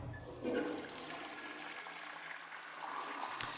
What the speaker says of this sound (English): when video games do this for the most part, you don't actually hear anything going into the toilet, you only hear the flush